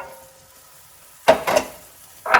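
Diced onions hitting a pan of melted butter and oil, a quiet pause broken by a sudden loud sizzle burst, another close behind, and a third sizzle at the end.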